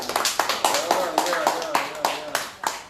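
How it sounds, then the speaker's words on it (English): A crowd claps in a quick, steady rhythm of sharp hand claps, with voices calling out over the applause. "Please clap for me."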